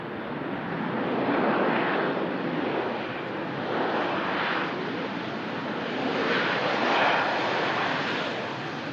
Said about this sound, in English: This Ryanair coming in from Barcelona